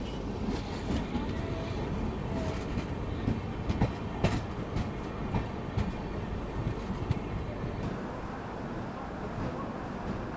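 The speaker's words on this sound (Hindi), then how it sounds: "यहाँ पे अराइवल हो रहा है रुठियाई जंक्शन रेलवे स्टेशन पे" Passenger train, the Udhna Banaras Express, arriving at Ruthiyai Junction railway station, with steady rumble and clickety-clack of wheels on rail joints throughout, loud and continuous, a few sharper clanks.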